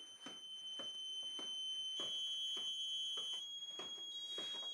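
A motion sensor alarm in a hallway sounds steady, piercing electronic tones that shift partway through, while footsteps thud along beneath it.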